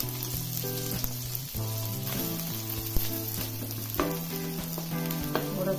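Onion sautés in hot oil with cloves, cinnamon and coriander-cumin powder for a mixed vegetable bhaji. A steady sizzle carries a few stirring clicks, and a low hum runs underneath. No one speaks.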